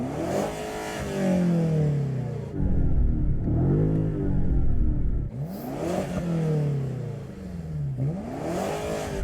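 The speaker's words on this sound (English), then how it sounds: "its exhaust sounds better than this previous generation model" BMW M5 cars in a drag race, engines revving hard through repeated rising gear pulls, a loud rumbling exhaust with short breaks at each shift.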